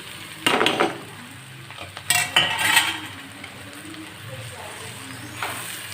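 Soaked puffed rice being stirred in a bowl with a spoon for Rayalaseema-style uggani, a few scraping, rustling bursts of mixing with quieter pauses between, close and moderately loud.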